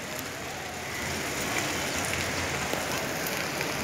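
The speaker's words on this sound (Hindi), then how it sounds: "और अभी ये बारिश भी थी" Monsoon rain pours steadily in Bandra, Mumbai, a dense even hiss of drops on surfaces, moderately loud and continuous with no voices.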